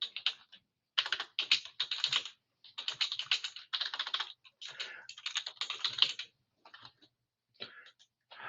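Rapid clicking of keys on a computer keyboard, typed in quick bursts separated by short pauses, close and clear with no talking.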